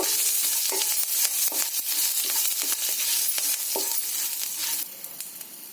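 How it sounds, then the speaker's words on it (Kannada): Green chillies and garlic fry in hot oil in a pan for a peanut chutney, a steady close sizzle with repeated stirring scrapes, easing slightly near the end. "ಎರಡು ಮೆಣಸಿನಕಾಯಿ ಹಾಗೂ ಒಂದು ಸ್ವಲ್ಪ ಮಟ್ಟಿಗೆ ಬೆಳ್ಳುಳ್ಳಿ ಎಲ್ಲವನ್ನು ಹಾಕಿ ಫ್ರೈ ಮಾಡಿ"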